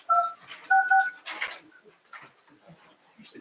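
Dual-tone telephone dialing beeps sound as a call is placed by speakerphone during a city council meeting in Stuart, Iowa: a few short, clear tone bursts in quick succession, then a burst of noise and faint room sounds.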